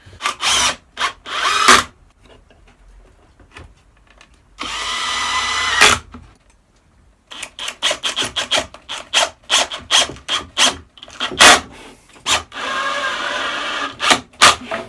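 Cordless power drill driving screws into wood on a low clutch, screw-drive setting for building storage steps: repeated short whirring bursts with brief pauses, close and fairly loud, no talking.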